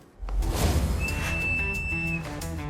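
A single thin, high referee whistle blast sounds for about a second over loud crowd rumble and background noise, starting a basketball game.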